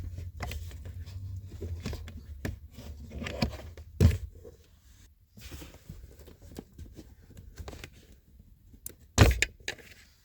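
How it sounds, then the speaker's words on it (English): Small metal hinge pins pushed out of a Kia Sportage glove box, faint scattered clicks and taps near the microphone, with two sharper knocks standing out among quiet handling noise. "just push the end of the pin and it will slide out"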